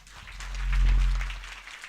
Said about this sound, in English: So let's all welcome and give a warm round of applause to Samantha Yuen.